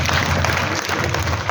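An audience at a community award ceremony applauds, a dense, loud patter of many hands clapping steadily throughout the short stretch.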